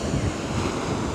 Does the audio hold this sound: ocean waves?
yes